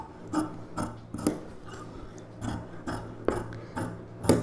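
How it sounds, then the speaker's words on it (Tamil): Scissors snipping through silk saree fabric while cutting a puff sleeve blouse piece, a steady series of close, crisp rasping cuts at a regular rhythm with no talking. "இப்போ நம்ம இந்த பீஸ் அப்படியே கட் பண்ணி எடுத்துக்கலாம்."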